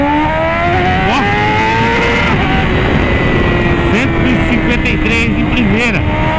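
A mini motorbike engine screams as it revs hard in first gear on a ramp, loud and close, with rising and falling whines and rapid throttle blips while people shout excitedly over it.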